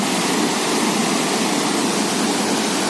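The mountain river Prut rushes past Probiy waterfall in Yaremche in the Carpathians, a steady, dense, loud roar of churning water with no pauses.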